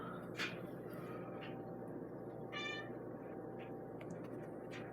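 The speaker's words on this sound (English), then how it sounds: "Hello, cat." A cat meows a few times, short calls rising out of a steady background hum in an indoor workspace where an electrolysis device is running.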